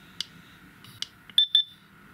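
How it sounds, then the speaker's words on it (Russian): Garrett Pro Pointer AT pinpointer, a ground and underwater metal detector, gives a few soft button clicks and then two short, high electronic beeps, close and with no voices. "Вот переключили звуковой сигнал и вибрацию."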